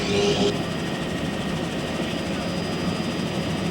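A steady, droning helicopter rotor and engine hum runs continuously at moderate loudness over a 1983 powerboat race in Detroit, with faint voices mixed underneath.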